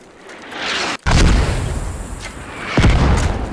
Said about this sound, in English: Was Mortar.